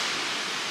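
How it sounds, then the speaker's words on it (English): A small river flows steadily nearby, a continuous broadband rushing wash of water with no voices over it. "Literally a little river."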